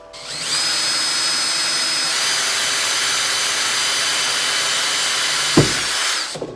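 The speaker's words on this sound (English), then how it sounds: "we got all the screw holes drilled in our PVC" A power drill boring screw holes in PVC whines steadily at high speed for several seconds, close and loud, then a brief thump as it winds down and stops.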